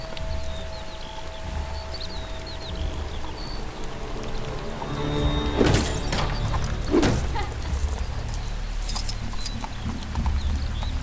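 Horse hooves clip-clopping in LEGO Marvel Super Heroes 2, a soft steady clatter under a continuous game ambience with a couple of sharper swooshing hits midway.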